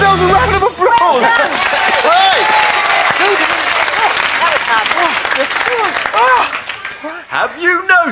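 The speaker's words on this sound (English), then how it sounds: "Give yourselves a round of applause!" A crowd gives a round of applause at a children's nursery rhyme show, loud sustained clapping with cheering voices running for several seconds and tapering near the end.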